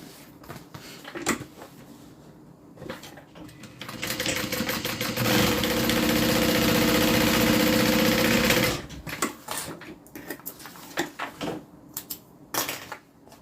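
Sewing machine top stitching a fabric panel, a steady whirring run of several seconds between shorter start-stop bursts and handling clicks, close and fairly loud.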